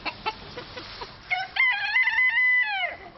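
Backyard chickens cluck in short repeated bursts before a rooster lets out one loud, close, drawn-out crow that rises and falls over about two seconds.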